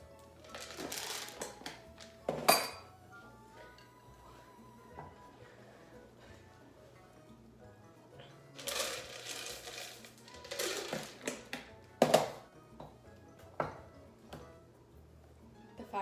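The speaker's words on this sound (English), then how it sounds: "The fact that the bowl is making that noise" A mixing bowl clanks and scrapes as chocolate chips are folded into homemade cookie dough, giving scattered sharp clatters with quieter gaps in between.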